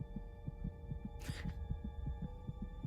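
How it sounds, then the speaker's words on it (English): A steady heartbeat pulses in an even, quick rhythm of soft low thumps over a constant hum, with a brief whooshing burst partway through, in a She-Hulk episode. "Your heart's beating pretty fast."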